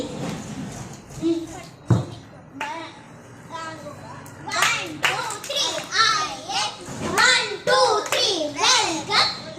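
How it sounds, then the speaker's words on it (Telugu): A group of schoolchildren counts aloud and then claps together to welcome a guest, with sharp hand claps set among their chanting voices. "tick tick claps"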